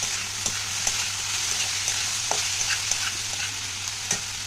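Sabudana khichuri with potatoes and peanuts frying in a pan, a soft steady sizzle broken by light scraping and tapping of a spatula as it is stirred, quiet and close.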